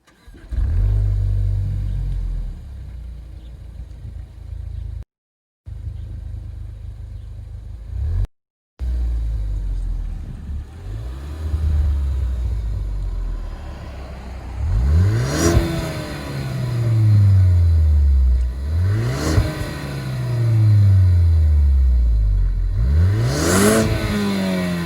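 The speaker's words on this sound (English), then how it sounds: "So I want to show you guys what the exhaust sounds like. I'm going to do a couple low revs, mid revs, and a couple revs closer to the red line." A Ford Focus ST exhaust is revved from low through mid to near-redline revs: a steady idle rumble gives way to repeated loud rising-and-falling revs, each climbing higher, with no talk.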